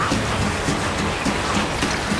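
Heavy rain pours down in a dense, steady hiss, drops pattering loudly on a nearby surface, around a Dyna-Glo offset smoker, with no pauses.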